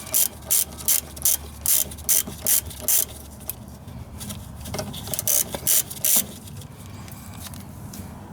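A hand ratchet backs out 10mm ABS bolts on an Integra, rattling in quick, evenly spaced bursts of clicking, close and fairly loud, with brief pauses and a softer run of clicks toward the end.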